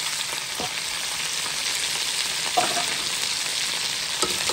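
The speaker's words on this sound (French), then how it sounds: "Les oignons, je mélange." Onions frying in a pan while being stirred, part of a smoked chicken dish, giving a steady close hiss with a few light scraping knocks from the spoon.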